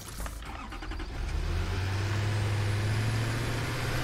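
A tractor in the video game Satisfactory drives along with a steady, loud engine drone that swells and holds a low, constant hum after the first second, with no talk over it.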